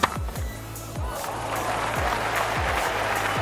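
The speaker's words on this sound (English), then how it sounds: "collected a good round of applause for Imran" A cricket crowd at a 1985 match applauds a delivery from Pakistan captain Imran Khan, sustained broadband clapping filling the ground beneath repeated low thuds and rumbles, with a distant commentary voice faintly underneath.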